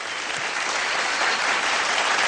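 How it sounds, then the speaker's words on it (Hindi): Loud, dense applause from an audience at the 2014 STAR GIMA Awards show, a steady wash of clapping that holds throughout and grows slightly stronger. "मैं चाहता हूं कि जगजीत जी के लिए जोरदार तालियां हो जाएं एक बार।"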